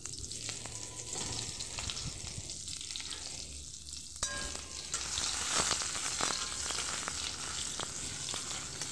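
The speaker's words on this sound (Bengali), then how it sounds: "মাছটাকে দেখুন খুব ভালোভাবে ভাজা হয়ে গেছে" Bata fish frying in oil in a kadai, a steady broadband sizzle running throughout with occasional spits and pops, growing slightly louder partway through, close up with no talking.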